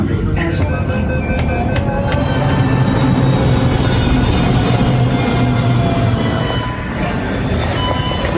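A Delhi metro train running along the track, a loud steady rumble with squealing wheels and rhythmic clatter throughout, with a voice speaking over it.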